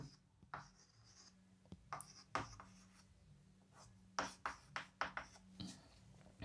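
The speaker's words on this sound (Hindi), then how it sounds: "ये लिख देते हैं पहले" Chalk or marker scratching across a board during an electrostatics lecture, a series of short, quiet strokes and taps in bursts, heard alone against faint room hum.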